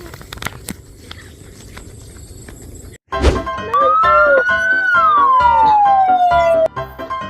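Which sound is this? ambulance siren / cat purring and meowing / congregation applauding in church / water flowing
ambulance siren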